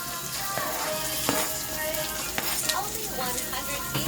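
Sisig sizzles and crackles steadily in a pan, with a few scraping stirs and light clinks of a utensil, close and fairly quiet, with no talking.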